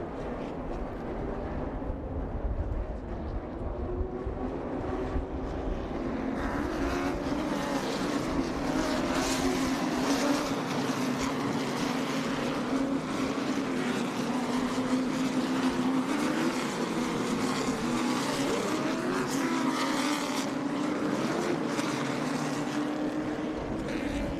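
Race cars at a CARS Tour late model event at the Old North State Nationals make a loud, continuous roar of engines with shifting pitch. The sound swells as the pack passes close by and keeps going for the whole stretch without any voices.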